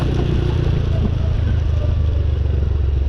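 A motorcycle engine is revved steadily as the throttle opens, its loud low rumble continuous and close for about three seconds, with no voices over it.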